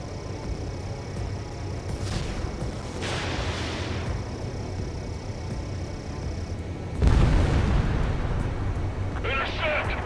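Anti-aircraft guns and explosions in Ace Combat 7 rumble continuously, with deep booms and a sharp blast near the middle, set against a steady low roar and mixed with voices.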